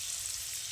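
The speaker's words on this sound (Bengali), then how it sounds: "হালকা হাতে উল্টে পাল্টে পনিরটাকে ভেজে নেব।" Paneer frying in hot oil in a pan gives a steady, even sizzle, close and constant, with no voices over it.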